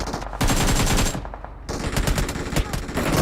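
Rapid automatic gunfire in the BGMI battle royale game rattles loudly in dense bursts, with a short pause before the shooting resumes.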